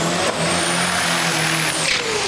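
A diesel super dragster roars loudly during a qualifying run at a drag race, its engine note held high and sustained before a brief shift in pitch as it passes.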